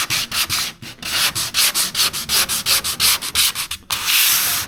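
Fine-grit sandpaper rubs over body putty on a 1976 BMW 2002 being repainted, in about twenty quick, even back-and-forth strokes, loud and close, ending in a longer continuous scrub.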